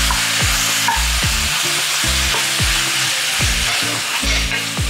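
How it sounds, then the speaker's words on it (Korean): Chopped green onions fry loudly in cooking oil in a pan for a squid stir-fry, a dense continuous sizzle broken by repeated scraping stirs in a steady rhythm. "파를 넣고 파기름을 내주세요"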